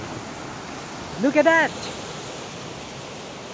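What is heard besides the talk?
sea waves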